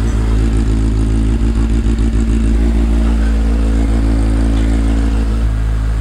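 A Kawasaki Z800 motorcycle idles close by, its engine giving a loud, steady, throbbing rumble with a faint mechanical clatter and no speech over it.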